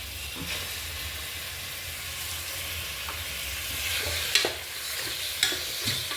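One kilo of mutton for a Telangana-style mutton curry frying in a pan, a steady broad sizzle with a few sharper crackles and stirring scrapes near the end, close and alone.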